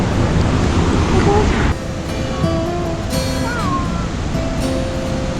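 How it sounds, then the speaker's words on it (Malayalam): The Kozhipara waterfall rushes as a loud, steady wash of water close by, easing slightly partway through, with voices talking over the roar. "നമ്മൾ കോഴിപ്പാറ വെള്ളച്ചാട്ടത്തിലോട്ട് എത്തിയിട്ടുണ്ട്."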